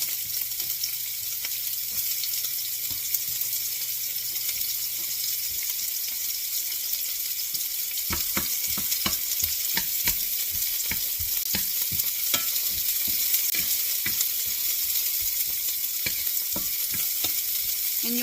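Onions sizzle in hot oil in a pan, a steady bright crackling hiss with occasional stirring scrapes and clicks throughout.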